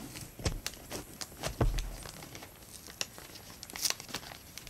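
A homemade blind bag package is opened by hand, with close crinkling and tearing of packaging in irregular bursts and a few sharp rustles, fairly loud against a quiet background.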